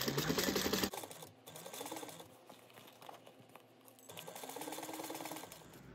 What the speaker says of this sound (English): So we're going to do a few stitches at the bottom at 3/8, and then we're going to increase this to a 1/2 inch seam allowance.